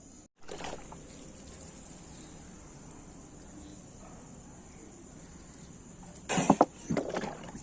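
Water from a container of soaked ginger and garlic peels is poured out as a plant spray, a soft steady trickle lasting about six seconds, followed by a brief louder clatter.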